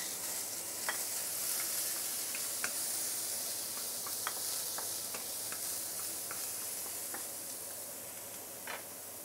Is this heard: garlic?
yes